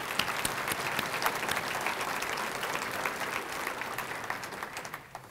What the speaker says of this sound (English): I'd like to give Jeff a big round of applause if we could, please